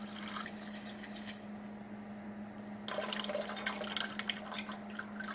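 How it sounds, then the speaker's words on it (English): Copper acetate solution from kitchen chemistry etching is poured into a pan, a steady liquid splashing and trickling that swells louder partway through over a constant low hum. "Dump this into a pan and boil it off"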